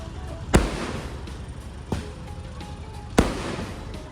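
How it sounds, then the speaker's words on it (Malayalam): Festival fireworks burst in three sharp, loud booms spaced a second or more apart, each with a short echoing tail over a low murmur of crowd background. "അങ്ങനെ ഞങ്ങൾ ഇതാ ഉത്സവം കണ്ടു, വെടിക്കെട്ടും കണ്ടു"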